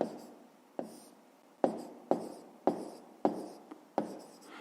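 Numbers written by hand during a fifth-grade maths exercise: pen or chalk strokes come in about eight distinct bursts, each a sharp scratchy onset that fades, close and fairly quiet with no talk.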